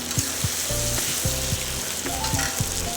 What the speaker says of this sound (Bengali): চিকেনটা খুব সুন্দর করে কষানো হয়ে গেছে